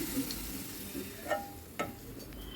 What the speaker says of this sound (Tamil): அடுப்பு அனல் லோ டு மீடியமில் வச்சு நல்லா இந்த மாதிரி பொன்னிறமாக வர வரைக்கும் வறுத்துக்கோங்க.